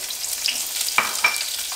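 Onion and garlic hitting a little hot oil in a skillet while making mole, a bright hissing sizzle with a couple of sharp utensil scrapes, near and loud with no voices.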